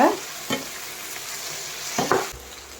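Vegetables for aviyal lightly sautéing in a pan, with a steady sizzle broken by a few distinct scraping stirs near the start and near the end, close and clear.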